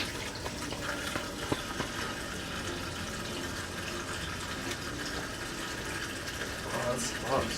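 Water runs steadily from a tap during handwashing, a continuous broadband hiss throughout, with faint talking underneath.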